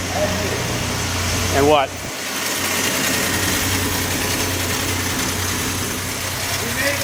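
Triumph TR6 barn find engine running again after sitting, a steady close idle with a brief revving surge and a sharp cut before settling back to an even drone, with a short spoken exchange over it.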